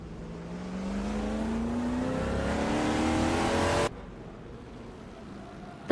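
Chevrolet Monte Carlo race car engines in a racing video game, a loud engine climbing steadily in pitch through the gears for about four seconds before cutting off abruptly, leaving a faint background hum.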